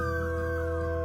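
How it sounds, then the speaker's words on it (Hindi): A dog howls at night in a cartoon village, one brief sustained wavering tone that sounds distant and carries no voices. "ऐसे ही एक रात दूर कुत्ते भौंक रहे थे।"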